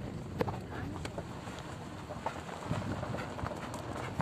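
A donkey runs outdoors, its hooves making a scattered, irregular clatter over wind noise, with people talking nearby.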